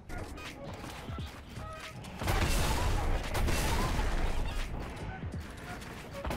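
Rapid gunfire from an unfamiliar gun in Fortnite, bursts of shots rattling through a noisy game mix, growing denser and louder midway.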